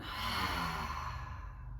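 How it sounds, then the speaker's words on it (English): A long, slow exhale during a yoga session, a soft close breath that fades gradually into quiet. "Take a couple more, breathing in, breathing out."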